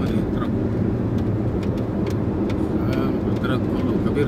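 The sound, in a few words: trucks driving on a toll road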